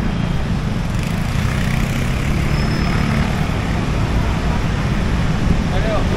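Busy Bangkok street traffic with cars and tuk-tuks, a loud continuous roar of engines and road noise close by, dense and unbroken throughout.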